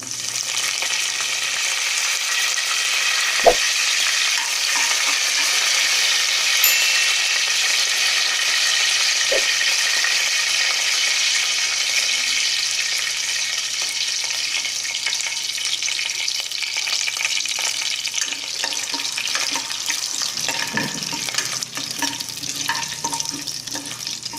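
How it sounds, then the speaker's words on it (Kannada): Curry leaves sizzle and fry in hot oil for puliogare, a steady, loud, dense crackling hiss that runs unbroken throughout, with a few sharp clicks from the pan near the start. "ಕರಿಬೇವು ಹಾಕ್ತಾ ಇದ್ದೀನಿ."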